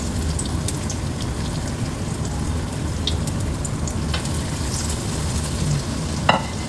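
Breaded schnitzel fries in a hot, thin wok with a steady, dense sizzle and crackle of oil. The sound carries evenly throughout, with a few brief pops and spits standing out.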